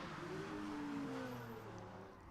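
Porsche race cars driving past on a circuit during a car meet, a steady engine drone with rising and falling pitch as they pass at middle distance, fairly quiet.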